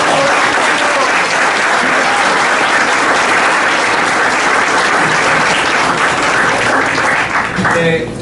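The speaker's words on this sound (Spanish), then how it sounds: "Le agradezco al público que haya esperado a que terminen las intervenciones para aplaudir" An audience at a university debate on constitutional reforms bursts into loud, sustained applause that fills the room and tapers slightly at the very end.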